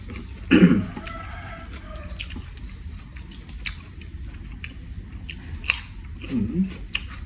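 Crunchy bites into crispy grilled pork neck eaten with sour jaew dipping sauce, two distinct close crunches, one near the start and another near the end, separated by quiet chewing and faint background noise.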